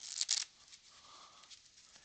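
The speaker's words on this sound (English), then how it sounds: "give it a nice shuffle and shuffle" A deck of playing cards is shuffled during a sleight-of-hand magic routine, with one quick close riffle burst that fades into a soft papery rustle.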